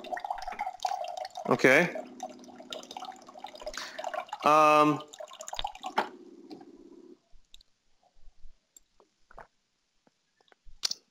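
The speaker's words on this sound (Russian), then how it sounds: "Извини, сейчас я проливаю воду." Water being spilled and poured indoors, heard as short splashy drips and a brief gush amid pauses, close and fairly clear, with a voice speaking briefly around it.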